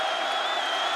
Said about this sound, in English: Crowd making some noise here.